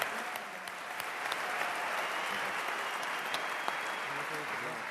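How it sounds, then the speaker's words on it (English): Steady applause from the audience at the Ballon d'Or 2019 ceremony, a dense, even wash of clapping throughout with a faint voice under it. "A round of applause for Alison Becker."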